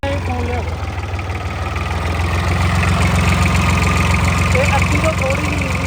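A homemade 26 hp diesel tractor engine idles with a steady, loud low rumble and constant vibration from start to end, with no talk.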